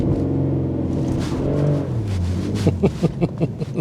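A BMW M140i is launched manually in second gear, the engine droning under load as its pitch sags and bogs, then breaking into choppy, stuttering pulses as it struggles to pull away.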